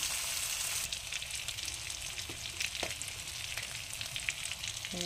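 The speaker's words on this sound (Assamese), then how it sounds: "এয়া মই অকণমান দেৰি ফ্ৰাই কৰি লৈছোঁ আৰু ইয়াত মই এতিয়া এটা এটাকৈ মছলা দিম" Spices fry in a pan with a dense, continuous sizzle, close and steady, with occasional light clinks and stirring scrapes; no voices.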